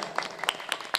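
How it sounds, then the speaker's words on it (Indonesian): Brief scattered hand clapping from a group of young pupils after a Quran recitation test, light and uneven, fairly faint. "kasih tepuk tangan dulu buat Tiara"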